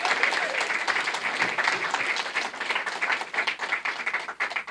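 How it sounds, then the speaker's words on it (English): A big round of applause at an NDP riding association AGM in Nanaimo–Ladysmith welcoming the federal leadership candidates: steady, dense clapping from a room full of people, loud and close, holding for the whole stretch before easing slightly at the end. "Please join me in welcoming them with a big round of applause."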